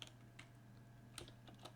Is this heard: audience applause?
no